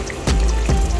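Cooking cream glugs into a pan already holding tomato purée and garlic, a brief close liquid splash and trickle with two soft pulses, no voices.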